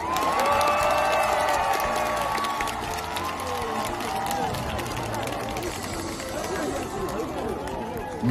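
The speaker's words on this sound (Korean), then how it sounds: "뜨거운 함성과 박수 부탁드리겠습니다." A large outdoor concert crowd in Suncheon cheers and applauds, loud and sustained, with shouts and a hum of chatter mixed in and a bright tonal sound fading in the first few seconds.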